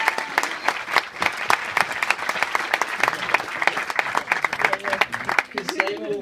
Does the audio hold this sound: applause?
yes